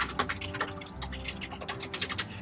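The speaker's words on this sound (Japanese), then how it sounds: "多分タイピング音とかすごいうるさいかもしれないですね" Quick, uneven clicking of keys on a computer keyboard while someone works on a web design reference site, steady close taps with a few louder strokes, no voices.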